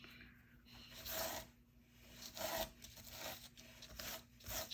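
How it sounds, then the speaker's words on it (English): A cloth buffs a freshly stamped paper card in steady rubbing strokes, a close, soft, swishing rasp repeating back and forth with no talking. "And then I'll just buff it with my cloth."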